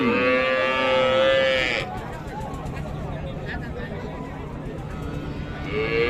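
A loud, drawn-out moo from Friesian cattle opens at a livestock market in Raniganj, Dinajpur, then a crowd murmurs and chatters before a second moo begins at the end.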